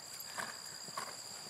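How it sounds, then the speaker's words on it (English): A horse canters on arena footing, its hooves thudding softly in a steady, rolling rhythm at moderate distance with faint background hiss. "I know it's hard because she's just warming up at the canter."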